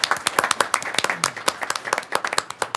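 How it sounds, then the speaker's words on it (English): Scattered clapping from a small audience at a city council meeting, a few dozen distinct hand claps in an uneven rhythm, fairly close and moderately loud. "let's give him a round of applause anyway"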